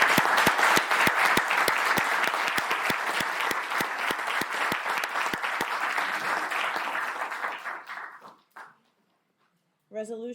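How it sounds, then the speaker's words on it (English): Council members and audience at a municipal reorganization meeting applaud the firefighters, steady loud clapping for about eight seconds with sharp individual claps standing out, then fading to silence before a brief voice. "Give a round of applause for our firefighters."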